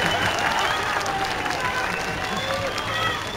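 A ceremony audience applauds in a dense, steady patter of many hands clapping, loud and continuous, with no talking.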